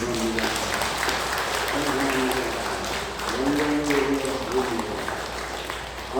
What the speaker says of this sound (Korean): 우리 하나님 앞에 감사와 찬송과 영광의 박수를 올려드리도록 하겠습니다.